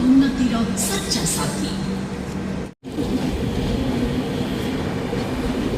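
A train stands at Cuttack Junction on the route from Kolkata to Puri, with a steady low rumble and hiss of the halted carriages and station, while a person talks throughout.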